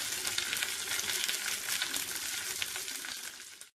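Curry leaves and slit dried red chillies crackle and fry in hot oil, a dense close sizzle that fades off abruptly at the end.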